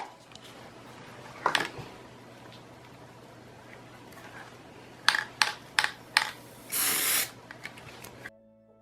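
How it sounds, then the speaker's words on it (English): An aerosol can sprays primer onto craft pieces in short hissing bursts: one early puff, a run of quick sprays, then a longer steady hiss near the end, each close and fairly loud over a quiet room hum. "And I spray primed those."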